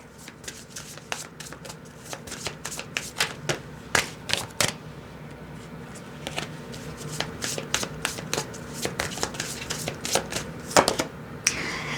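Tarot cards are shuffled and drawn close up, giving a rapid run of crisp riffles, flicks and soft slaps that comes in uneven bursts, quiet overall, with no speech.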